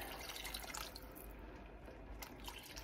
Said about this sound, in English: We're going to put our water in.